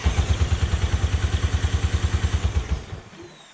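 A 1956 Johnson 30 hp outboard motor cranked over by a homemade electric starter, a fast rhythmic chugging of compression strokes, loud and close, slowing and fading out after about three seconds without firing.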